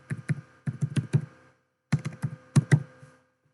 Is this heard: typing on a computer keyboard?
yes